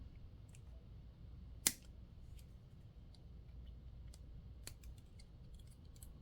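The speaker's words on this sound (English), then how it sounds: "we're going to cut something off the sprue as close as possible" Plastic scale model part snipped off its sprue: one sharp, close click of the cutter, then faint ticks and small handling noises over a quiet room hiss.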